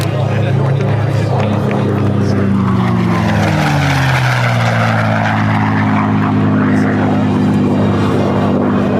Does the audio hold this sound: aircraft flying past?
yes